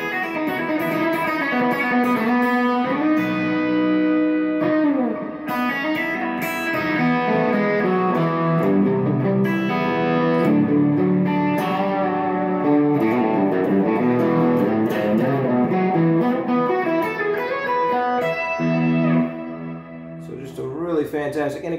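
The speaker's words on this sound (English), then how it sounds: "nice big canyonish reverb with the synth slightly kicking in on that for" A synth lead through a Strymon Cloudburst reverb pedal rings out with long, washy, canyon-like reverb trails, notes sustaining and blending into a spacious wall of sound.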